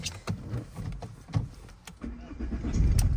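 An Opel Zafira B engine cranks and catches near the end, rising into a low rumble after a few clicks and faint mechanical noises inside the car.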